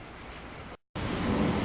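Steady rain falls in a broad, even hiss. There is a brief dropout partway through, and then the rain returns a little louder and closer, with no voices.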